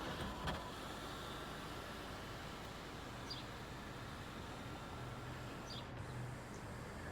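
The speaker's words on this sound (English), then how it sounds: "which is the sunroof. I'll show you it open." A sunroof on a 2022 Mercedes-Benz A220 glides open with a quiet, steady electric motor hum inside the cabin, low and even throughout.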